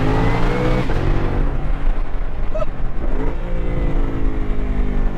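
A 2025 Ford Mustang GTD's engine revs hard and loud, with rising and falling sweeps and sharp exhaust pops crackling between the revs, heard up close from the moving car.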